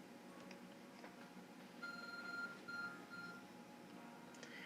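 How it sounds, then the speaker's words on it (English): Arc Phone in Pokémon Legends: Arceus giving a short series of electronic beeps, bright pitched tones pulsing over a low game ambience for a couple of seconds. "Your arc phone is beeping."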